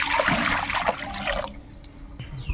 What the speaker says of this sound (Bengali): কড়াইয়ের মধ্যে জল দিয়ে দেবো।